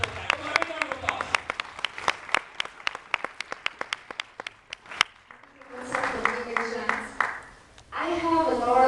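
An audience claps in sharp, distinct beats, at first steady and spaced, then swelling into a fuller burst of applause near the end, with voices heard around it.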